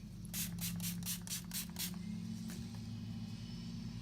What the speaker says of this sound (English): I'm going to spray it again just because I want to like smell it